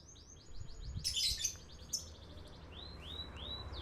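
A canary sings in repeated quick rising chirps, a steady run of bright notes with a brief noisier burst midway, over a low background rumble.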